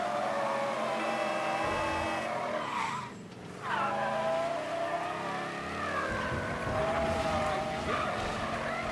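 A car engine in the PC game Mafia III revs and tires screech as it skids, the motor whining up and down in pitch, loud and continuous throughout.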